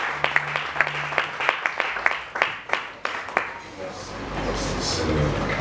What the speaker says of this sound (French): Nous le recevons avec beaucoup d'applaudissements.